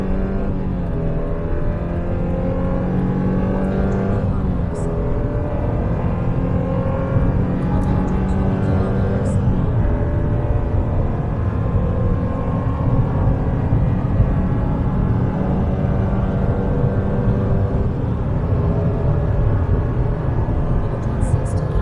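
A Subaru car engine accelerating while running on LPG with supplementary petrol injection, a steady close drone with smooth harmonic tones that stay level and climb gently throughout, with no break in the sound.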